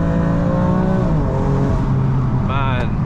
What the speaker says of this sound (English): Man, it is a nice sounding car, I'm not gonna lie.